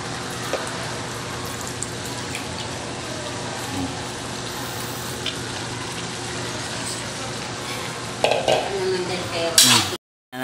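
Liver sizzles steadily in a hot pan while a utensil stirs it, scraping and clinking against the metal. A louder clatter of stirring comes near the end, followed by a brief cut to silence.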